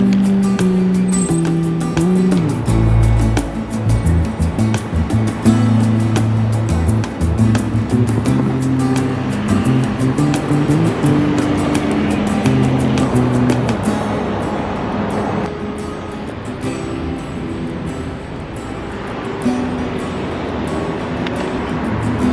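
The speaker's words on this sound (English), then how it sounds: "Traffic." Street traffic in Toronto, with a steady, loud wash of passing cars and engine rumble that continues throughout, close by and with no talk.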